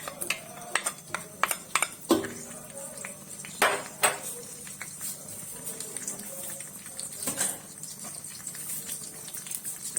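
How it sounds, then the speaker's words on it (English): Onions go into hot palm oil in a pot for Nigerian party egusi soup, with sharp clinks and scrapes of a utensil against the pot, scattered clatters and a soft background sizzle. "Immediately you add your palm oil, you start adding your other ingredient, like very fast. So I'm going to be adding my onions."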